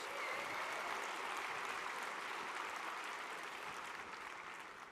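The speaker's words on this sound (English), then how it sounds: "Give yourselves a round of applause for being here to support us." Sustained applause from a large crowd at the 2023 43North startup competition finals, steady and dense clapping that fills the whole stretch before easing slightly at the end.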